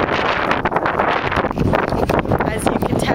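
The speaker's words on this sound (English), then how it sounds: "As you can tell and can probably hear, it's really windy." Strong gusts of up to sixty miles per hour batter a microphone outdoors, giving a loud, constant roaring buffet with harsh bursts throughout, while a person talks underneath.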